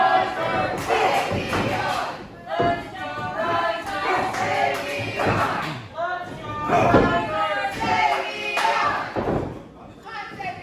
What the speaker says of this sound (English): the crowd split on who they're going to cheer for